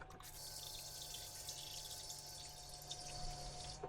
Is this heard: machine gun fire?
no